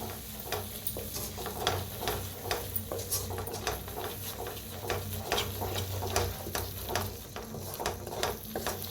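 Masala of turmeric, egg masala, garam masala and red chilli powder stirred and roasted in a pan, with steady sizzling under repeated scraping strokes of a spoon against the metal, close and continuous.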